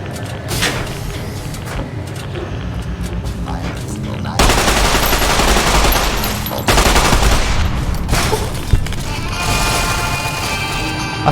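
Automated turrets firing in Fallout New Vegas: loud, dense sustained gunfire with heavy bursts and harsh noise filling the whole stretch, close and continuous.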